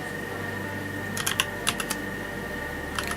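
Typing on a computer keyboard produces a few quick clusters of light key clacks over a constant low hum and background hiss, close-miked and fairly faint, with no voices.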